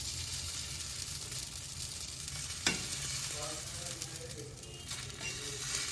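Onion potato dosa batter sizzling and crackling on a hot pan, a steady close frying hiss with a sharp clink of a utensil partway through and soft scraping after.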